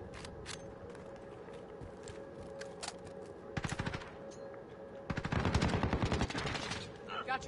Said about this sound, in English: Oh, he shot me through two walls.